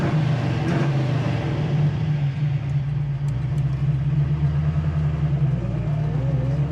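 A 1970 Camaro Z28 with an aggressive cam idles steadily close by, its low, even exhaust thump loud and continuous with no voices over it.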